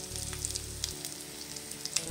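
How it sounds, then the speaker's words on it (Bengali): Mustard oil added to a pan of food while cooking, giving a brief soft sizzle and frying crackle up close. "তারপর সর্ষের তেল দিয়ে দিলাম।"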